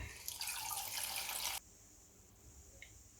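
Water pours from a tap into a container holding a cabbage scrap for hydro planting, a fairly quiet splashing stream for about a second and a half, then stops, leaving faint drips and a light thump.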